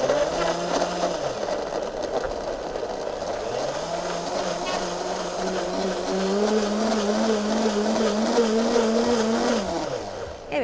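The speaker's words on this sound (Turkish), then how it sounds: "Yine blender yardımıyla hazır hale getireceğim." Blender mixing a healthy drink with a glass of water, a loud close motor whir that shifts pitch as the blades churn the liquid and runs steadily for about ten seconds, with no voices.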